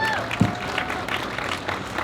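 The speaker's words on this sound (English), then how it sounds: "Give her a round of applause." Applause at an outdoor rally to reopen schools as the next speaker is invited up, brief, moderate clapping from the crowd mixed with a voice.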